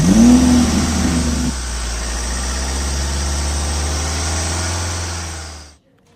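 A police car pulls away, its engine idling then running steadily at a mid-pitched hum with a brief higher whine at the start, before cutting off abruptly near the end.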